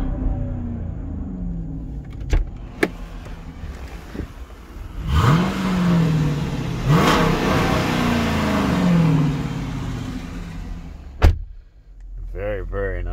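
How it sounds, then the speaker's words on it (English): A 2014 Jeep Grand Cherokee Limited with a 5.7-liter V8 Hemi and an aftermarket exhaust revs loudly twice in rising and falling sweeps, with a few sharp clicks before and after and brief talk nearby. "I think this might also have a nice aftermarket exhaust."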